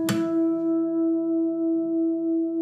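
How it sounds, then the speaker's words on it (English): Harmonics ring on two slightly out-of-tune guitar strings after a sharp pluck. Steady tones sustain quietly and swell and fade in slow, regular beats. "if one of the strings is slightly out of tune with the other one, you hear beats"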